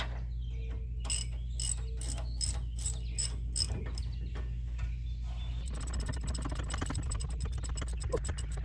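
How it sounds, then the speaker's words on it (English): A ratchet wrench tightening the lower brake bolt on a 2003 Dodge Ram 2500 during a rear brake rebuild, a series of distinct clicking strokes followed by faster continuous ratcheting, close, over a steady low hum. "right now what we're going to do is come in here and tighten the lower bolt"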